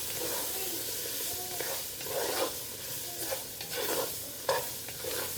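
Chopped vegetables sizzle and crackle steadily in a hot roux for frog leg and alligator gumbo, with intermittent stirring scrapes rising above the close, continuous frying hiss.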